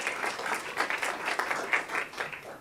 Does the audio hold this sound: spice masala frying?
no